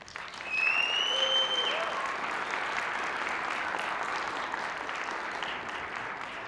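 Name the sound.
audience applause at awards ceremony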